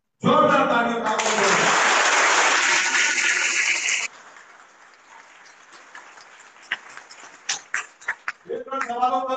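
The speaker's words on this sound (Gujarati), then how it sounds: "જોરદાર તાળીઓ આપો." Crowd applause at a political meeting in Kheda district: a loud burst of clapping right at the start that fades within a few seconds, leaving scattered claps and crowd noise, with voices returning at the end.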